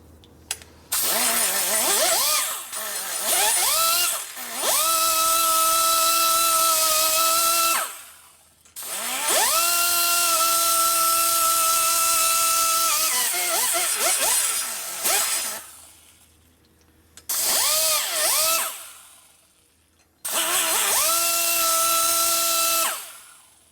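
A die grinder smooths and ports an S&S cylinder head for an Evo engine, whining at high speed in four long bursts separated by short pauses, each spooling up and winding down.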